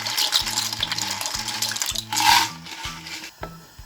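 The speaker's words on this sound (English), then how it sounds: "Give it a good mix." Spoon stirring pasta in a pot of cooking water, light clinks and scraping against the metal pot beneath soft background music.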